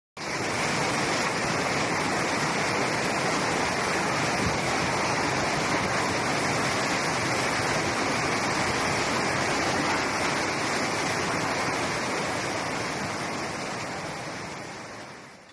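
Floodwater released from Miyun Reservoir near Beijing during heavy floods, a steady, loud roaring rush of water that holds constant throughout and fades slightly at the end, with no voices.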